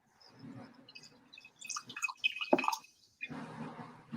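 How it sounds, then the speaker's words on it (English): Perrier sparkling water pours into a glass with a light gurgling splash and fizzing drips, close and fairly quiet, with brief pauses between. "whoever was pouring. That's me with my Perrier. Oh, your bubbly water."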